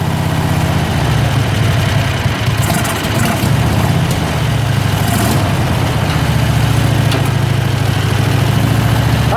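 A Predator 670cc engine fitted with a double pulse fuel pump runs at a steady idle, a loud, continuous low rumble with a constant vibrating throb throughout and no speech.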